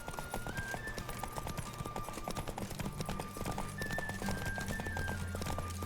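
Galloping horse racing in The Witcher 3, fast continuous clip-clop hoofbeats pounding at an even pace under a steady musical drone, with no talking.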